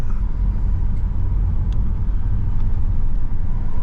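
A car passing close by on a storm-damaged rural road, a loud, low engine and tyre rumble that holds steady and fills the scene, with no talking.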